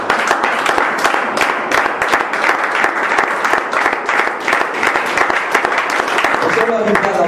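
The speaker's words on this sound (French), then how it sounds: "Est-ce qu'on peut acclamer pour Jésus?" Dense, sustained applause from an audience acclaiming Jesus during an evening sermon on salvation, filling the room steadily for about seven seconds with a few voices mixed in near the end.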